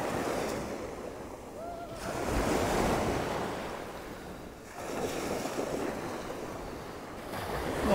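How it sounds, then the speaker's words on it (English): Sea waves roll onto a beach at Waxham on the north Norfolk shore, swelling and receding in slow surges under steady breeze and microphone wind noise. "Nice to hear the waves."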